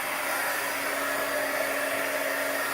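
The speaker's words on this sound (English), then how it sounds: "I'm going to hit it with the heat gun" A heat gun blows a steady, moderate rush of hot air over poured acrylic paint, an even continuous hum with a faint tonal whine and no talking.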